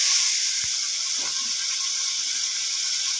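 Water is poured into a hot kadai with spices, giving a steady, close hiss and sizzle that carries on evenly to the end, with no talking.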